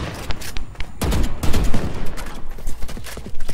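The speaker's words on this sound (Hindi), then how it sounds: "और ये हेजल का रन एंड गन।" Valorant gunfire while running: rapid bursts of close rifle shots in quick succession, loud and dense throughout the short stretch, with brief gaps between volleys.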